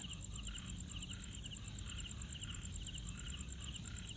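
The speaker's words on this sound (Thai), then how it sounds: "จิ้งหรีดมันทำเสียงได้ โดยการกรีดปีกครับ" A cricket rubbing its wings together gives a thin, rapid, regularly pulsed chirp, repeating evenly and quite faint over a low background hum.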